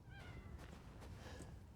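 A faint cat meow rises briefly, soft and somewhat distant, over a steady low background hum in the Resident Evil Village VR game.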